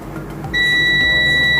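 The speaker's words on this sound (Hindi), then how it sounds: "यहाँ भी बीप आया, यहाँ भी बीप है" A milliohm meter gives a continuous high-pitched continuity beep, steady and lasting about a second, while its probes test a short on a mobile phone circuit board near the power IC.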